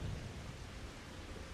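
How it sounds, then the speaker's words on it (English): Steady, dense rain hisses in Final Fantasy XIV, with a low rumble of thunder at the start, a constant broadband wash heard alone with no talking. "Damn, it's raining."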